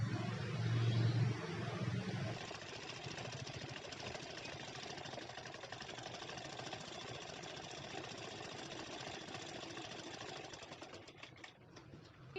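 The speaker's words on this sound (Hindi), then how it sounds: "अब ऐसे सिलाई करेंगे।" A sewing machine stitches a Bombay-cut katori blouse in a fast, even run. The mechanical whir is steady and continuous, with a slightly louder start before it settles.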